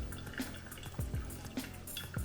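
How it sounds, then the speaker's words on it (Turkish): Hot water is poured over coffee grounds in a V60 dripper, a soft, quiet, continuous trickle with faint gurgles and small drips, close up and with no talking. "1 dakika 15. saniyeden itibaren de dıştan içe 205 mililitreye kadar döküyoruz."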